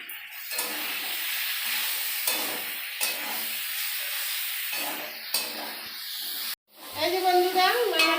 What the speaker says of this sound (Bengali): এই যে বন্ধুরা আমার সয়াবিনটা কষানো হয়ে গেছে